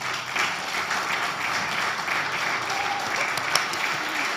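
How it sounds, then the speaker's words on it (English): An audience at a health journalism project close-out event claps in a continuous, moderately loud wash of applause that holds steady throughout, with one sharper clap standing out near the end. "He's wondering why we're all clapping."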